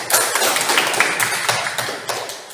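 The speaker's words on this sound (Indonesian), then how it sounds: "terima kasih tepuk tangan untuk Mika" A classroom of students claps for a classmate named Mika, a dense burst of many hands clapping close by that fades within a few seconds.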